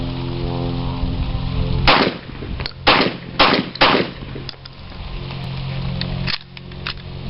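A .32 S&W Long rifle fires at a shooting range: four sharp, loud shots spaced about a second apart, then a quieter action clack later. A steady low background hum runs under the shots, with no voices.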